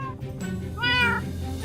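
A cat in the video game Minecraft Pocket Edition meows a few times, short and close, the clearest meow coming near the end, with no voices over it.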